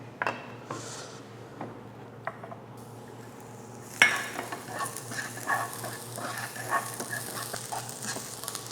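Zucchini and carrot stir-fried in oil in a pan for a noodle dish, a steady soft sizzle with scattered scrapes and clinks of a utensil stirring, close and moderate in level.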